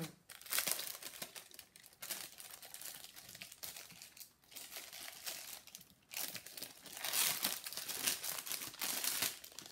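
A new Gorgus paper notebook being unwrapped from its plastic protective cover, with continuous close crinkling and crackling of plastic in irregular bursts throughout, no talk.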